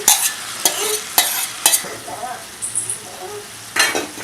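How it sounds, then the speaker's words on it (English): Pressure-cooked bitter gourd stirred into frying translucent onions in a pan: repeated scraping stirs, about six sharp strokes, over a soft steady sizzle, close and fairly loud, with no talk. "now I have mixed the pressure cooked bitter gourd with the onions that have just turned translucent"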